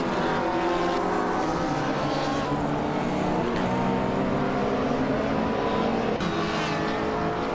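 TCA race car engines drone in a video game race on the reverse Rio track, a steady layered whine of several cars running close together, loud and continuous with no pauses.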